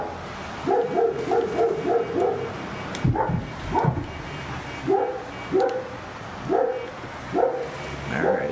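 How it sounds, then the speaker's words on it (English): A dog barks near and loud in repeated bursts, with yips and a few whimpers between them, set against faint background game noise. "Dog's going crazy."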